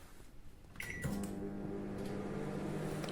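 A Samsung MG23K3515AW 23-litre grill microwave oven starting up, heard as a soft click and then a steady low electrical hum and whir that continues evenly, close and alone.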